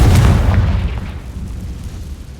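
A Confringo blasting spell explodes in the video game Hogwarts Legacy, a loud, heavy boom right at the start that rolls off into a low, decaying rumble.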